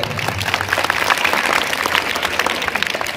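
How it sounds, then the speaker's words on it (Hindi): Students in a school classroom applaud loudly, a dense, steady burst of many hands clapping that fills the room throughout. "तो फ्रेंड्स, इसके लिए जोरदार तालियां हो जाए।"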